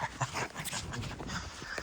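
A dog whimpers softly beside ice fishing tip-ups on a frozen lake in winter, the faint whines half-buried in a wash of outdoor wind noise.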